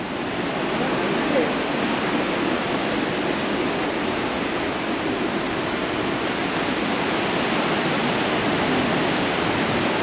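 Yellowstone geyser erupting outdoors, a loud, continuous rushing roar of water and steam like a waterfall that holds steady for the whole span, with wind buffeting the microphone.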